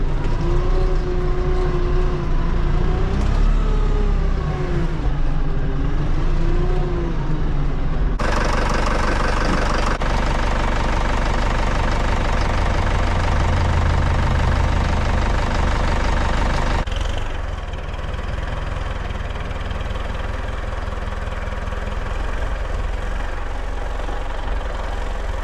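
A tractor engine runs steadily in the snow, heard from inside a warm cab, with a continuous low rumble that shifts in tone partway through and then settles back to a steady idle.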